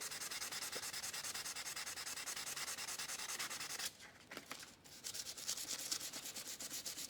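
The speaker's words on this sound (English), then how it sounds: "we use a sandpaper to polish the surface" Sandpaper polishes the surface of a hardness test sample in a steady, close scratchy rubbing that runs almost continuously, with a short pause midway before the strokes resume.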